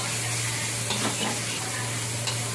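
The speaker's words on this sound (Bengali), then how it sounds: "ভালো করে এটাকে একটু লাল লাল করে ভেজে নেব" Bitter gourd and potato frying in a pan make a continuous close hiss and sizzle, with a couple of brief stirring scrapes and a steady low hum underneath.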